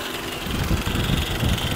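The engine of a 12-year-old Toyota Camry runs rough at idle, a close, loud, uneven rumble that throbs in irregular pulses.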